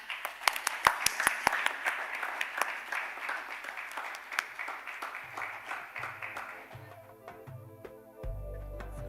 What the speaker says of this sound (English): please give a big round of applause for Richa Kanabar